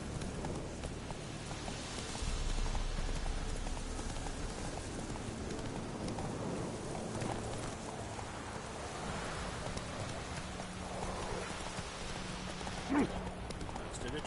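Hooves of Roach, a horse in The Witcher video game, clop steadily at a trot under a continuous rain-like wash of ambient noise, moderately loud throughout.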